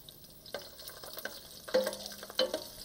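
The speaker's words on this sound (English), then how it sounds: "We're using whole garlic cloves, and we want to toast them around." Whole garlic cloves sizzle quietly as they toast in a pan, with a soft continuous fry broken by a few louder scrapes and stirs of a utensil against the pan; no one speaks.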